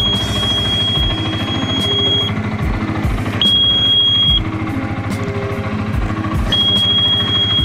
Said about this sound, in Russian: Вот эта пищалка, это да, это надо убирать.